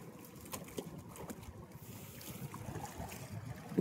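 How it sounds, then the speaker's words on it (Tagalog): Boats out on open water off Albay, a faint blend of motor hum, wind buffeting the microphone and splashing water with scattered knocks, all at low level. "Daming bangka mga idol."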